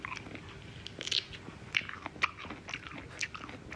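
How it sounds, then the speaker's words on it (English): Pineapple chewed close to the mouth gives a handful of quiet, wet crunching bites spaced irregularly over a soft background. "The chewing sound is really obnoxious."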